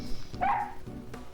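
Missile, the dog in the video game Miles Edgeworth Investigations 2, gives a couple of short, bright barks or yips, close and clear over quiet game sound.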